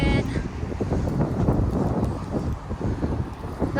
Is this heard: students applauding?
no